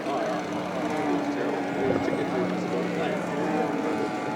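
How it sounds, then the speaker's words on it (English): Model Luscombe airplane taxiing back at a Golden Age model airplane gathering: a steady buzzing engine drone, moderately near and continuous, with outdoor crowd noise behind it. "The Luscombe back taxi."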